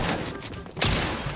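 Gunfire bursts crackle through a video game match, a loud rapid volley with a sharp heavy burst near the end against dense in-game noise.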